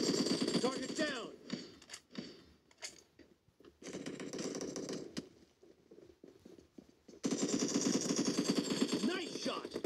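Mobile shooter game gunfire played on a Vivo V5+ phone: bursts of rapid automatic fire and scattered single shots in choppy clusters, with game voice lines calling out over the action.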